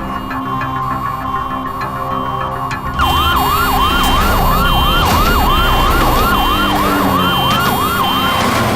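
An ambulance siren wails in a rapid, steady up-and-down pattern at an accident scene where police officers were run over, loud and close, rising over a dense background of street noise.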